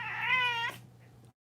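A grumpy cat lets out one drawn-out, complaining meow, close and fairly loud, ending in a short rough catch before fading under a low steady hum of the room.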